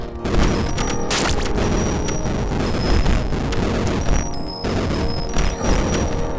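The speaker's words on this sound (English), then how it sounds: "Lots of explosions going on right now." Loud, dense bursts of explosions roar almost without pause through the Dungeon Souls dungeon crawler, with heavy booms and crashing impacts piling on top of each other and only brief dips between volleys.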